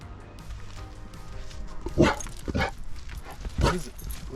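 Dog barking outdoors at bears along a route toward Alaska, a few loud close barks and yips spaced over a low background hum.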